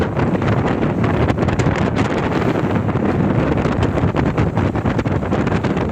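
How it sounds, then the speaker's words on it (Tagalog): Strong wind at sea over the Pacific Ocean roars and buffets the microphone continuously, loud and rough, with a broad rushing noise and no voices. "Ito mahangin po siya."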